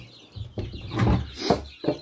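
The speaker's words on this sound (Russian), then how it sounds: "карликовых курочек, которые водят цыплят" Several short clucking bursts from bantam hens close by leading their chicks, with soft chirps in between, coming in uneven groups.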